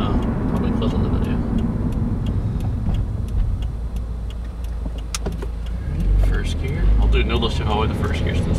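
A 2015 Subaru WRX with a Stage 1 tune and a newly broken-in clutch rumbles loudly and steadily from inside the cabin, the engine swelling louder near the end as it pulls harder. Voices may be faintly present.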